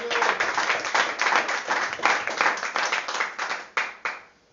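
Members of a Spanish-speaking church congregation clap together during a sermon, loud close hand claps in quick bursts that keep a rough rhythm, then thin out and stop abruptly.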